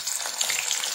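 Hot oil sizzles in a pan with a steady, dense hiss and slight stirring movement, close and even across a brief moment, with no voices.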